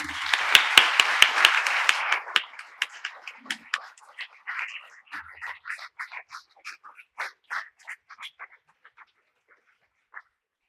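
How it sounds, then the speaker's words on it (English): Applause breaks out for the winners at a memorial lecture prize event. It starts as a dense burst of clapping, then thins into scattered, fading claps over about ten seconds. "A big round of applause."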